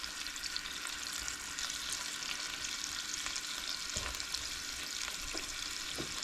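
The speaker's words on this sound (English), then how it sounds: "I'm going to finish crisping up the bacon and brown this up" Bacon and onions fry in a pan for a no-egg carbonara, giving a steady, dense sizzle and crackle throughout, with a few soft stirring knocks and no talking.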